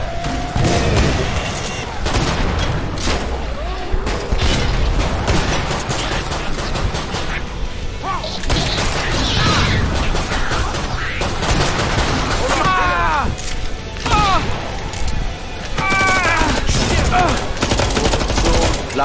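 Dense, loud gunfire from the Killing Floor 2 video game, with rapid bursts and shots running almost continuously, mixed with other game effects and occasional voices.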